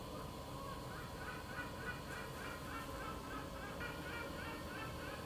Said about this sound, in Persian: این چرا داره میخنده مرغ دریاییه؟